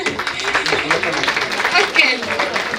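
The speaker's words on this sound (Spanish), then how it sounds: "Un aplauso." Clapping from an audience at a student panel discussion on Gaza, a short burst of mixed claps with voices audible underneath.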